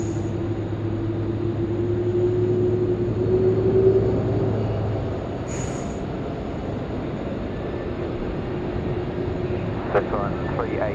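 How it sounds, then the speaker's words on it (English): Boeing 777 freighter landing at Sydney Airport at night, a steady low engine drone with a faint whine, heard from a distance with people talking over it throughout. "It's the 777 freighter."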